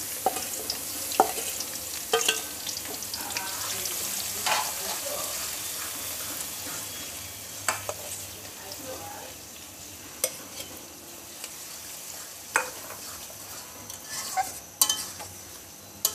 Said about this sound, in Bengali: এই তেলে দিয়ে দিচ্ছি পেঁয়াজ রসুন।